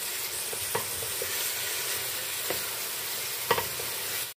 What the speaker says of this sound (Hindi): प्याज को हमने फ्राई करना है अच्छे से।